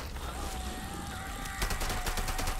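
Gun in the space game Starfield fires rapidly over dense game noise, the shots quiet and thick, turning into a faster rattling burst partway through.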